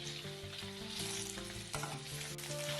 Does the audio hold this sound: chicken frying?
yes